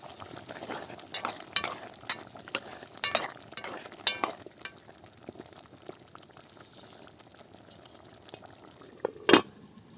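Mushrooms frying in a pan for a mushroom soup are stirred with quick scraping strokes over a soft sizzle, busiest early on, then settling into quieter frying before a single sharp clank near the end.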